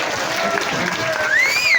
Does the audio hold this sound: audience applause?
yes